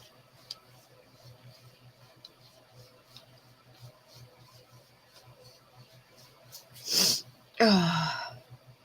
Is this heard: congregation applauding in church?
no